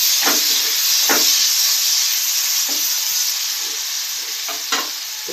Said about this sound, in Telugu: ఇప్పుడు టమాటా 1 చిన్నది ఈ విధంగా పీసుగా కట్ చేసుకొని వేసుకోవాలి